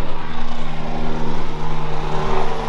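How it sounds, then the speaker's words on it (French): A helicopter passes overhead at an outdoor car meet, its rotor giving a steady, fairly loud droning hum with a fast rhythmic pulsing throughout. "Désolé pour l'hélicoptère."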